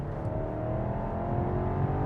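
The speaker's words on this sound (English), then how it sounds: "You can still clearly hear this is a V8." A 2023 BMW X6 M60i with a V8 fitted with a particulate filter, engine revving with a rising, steady drone, fairly loud and close.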